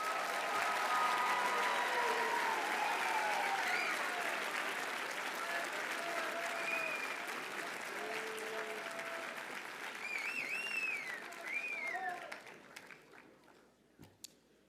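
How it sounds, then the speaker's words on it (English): Audience at the 2023 Cushing Academy commencement claps for the graduating seniors, a broad, distant roll of applause with cheers and whoops that tapers off toward the end, leaving a few scattered claps. "Let's have another round of applause for our seniors."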